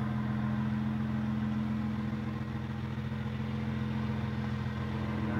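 A BMW 335i on Vorsteiner wheels idles steadily, its exhaust giving a low, even rumble close by for the whole stretch, with no talking.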